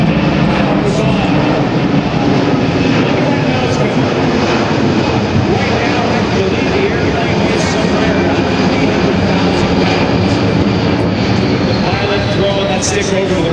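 A Boeing C-17 Globemaster III jet transport flying a demonstration at an air show roars loudly and continuously at close range, its engine noise a broad, steady rumble with no break.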